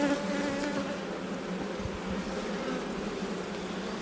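Honey bees buzzing at an excited hive in spring, a dense continuous drone of many insects, steady and fairly close with no voices.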